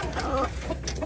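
Hens cluck softly at close range in a brief, murmuring burst.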